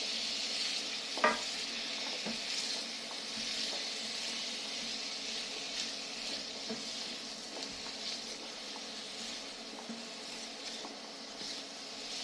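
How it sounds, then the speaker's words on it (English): Beets being stirred in a hot pan, a low steady sizzle with occasional spoon scrapes and taps, fairly quiet and without talk. "And I'll keep stirring them."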